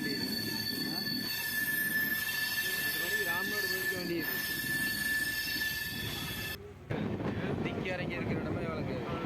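A train pulls out of a platform at Rameswaram station, its wheels squealing in a long, steady high whine over continuous rumble and clatter, with a brief dip near the end.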